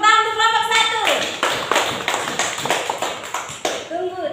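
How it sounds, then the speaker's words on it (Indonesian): Children in an elementary school classroom clap their hands together in a quick burst of claps, loud and close, with voices speaking over it at the start and end. "Tepuk tangan untuk kelompok 1."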